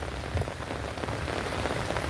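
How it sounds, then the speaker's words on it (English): Rain pattering steadily outdoors, a dense close hiss of drops striking surfaces with occasional heavier taps, continuous and fairly loud with no talking. "Rain is stopping and starting, so not bothering."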